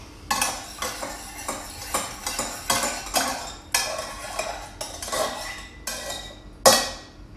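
Soy and yuzu sauce stirred in a bowl with a metal utensil, a close run of quick clinking taps and scrapes in bursts, ending in a louder clank.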